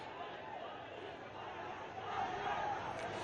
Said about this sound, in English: you can see that the crowd is only increasing here